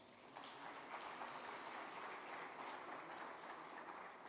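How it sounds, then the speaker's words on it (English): An audience at a 2024 awards ceremony for a UAE rain enhancement research program applauds in a steady, even wash of clapping, faint and distant throughout with no voices on top. "I think they deserve a round of applause."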